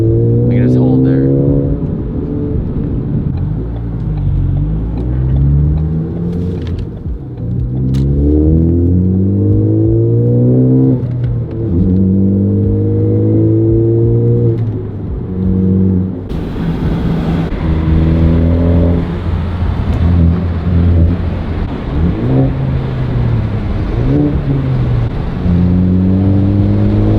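A tuned Ford Focus ST engine revs and holds a steady, loud, crisp rumbling drone with shifting pitch, climbing and settling over nearly half a minute without pause, no voices over it.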